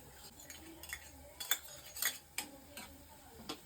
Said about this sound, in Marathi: लसणाची पेस्ट चांगली परतवून घेतली आहे